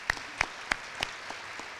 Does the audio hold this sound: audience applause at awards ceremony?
yes